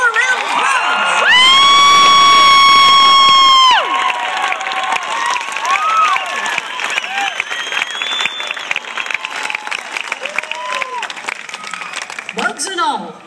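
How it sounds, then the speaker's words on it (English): Concert audience on a summer night in California applauding and cheering for a band, with whoops and shouts in a sustained roar. A brief high sustained musical tone sounds near the start. "Would you please give my band a big rip roar round of applause?"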